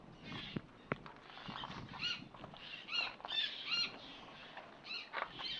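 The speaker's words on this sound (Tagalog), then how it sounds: "Yung naririnig nyo ay ano yan ang ibon." Birds call among the rocks of Parola Island, a scatter of faint, quick chirps and squeaks coming in irregular bursts over a quiet outdoor background.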